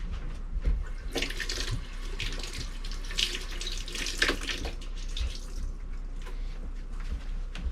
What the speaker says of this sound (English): Gonna use about half of this. Wash it off.